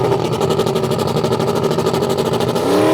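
A drag racing car fitted with a bump box sits at the staging beams, its engine running loud and close with a steady, throbbing idle and a slight rise in revs near the end.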